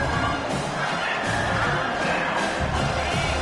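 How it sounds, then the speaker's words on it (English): A stadium crowd at an American football game roars steadily as the home defense faces third down, a dense, loud wall of cheering that holds throughout. "Decibels rising as the crowd gets behind this defense on third down"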